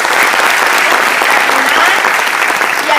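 A crowd in an audience breaks into loud, sustained applause, many hands clapping densely and evenly throughout, close and full with no speech on top.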